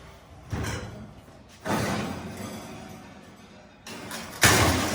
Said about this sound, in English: Let me open the oven for you.